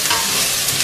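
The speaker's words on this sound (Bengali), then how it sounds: "মাছটা এখন তেলের মধ্যে" Fish fries in hot oil, a brief, loud, close hiss of dense sizzling.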